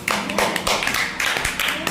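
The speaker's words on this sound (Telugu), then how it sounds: "ఈసారి సుధీర్కి క్లాప్స్." A group of schoolchildren in a class for grades 3 to 5 clap together in a quick, scattered burst of hand claps, moderately loud and close, with some voices mixed in.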